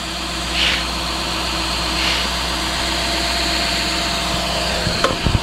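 A tractor engine runs steadily on a farm during an on-farm beef butchering, a loud continuous low drone, with a few sharp knocks near the end.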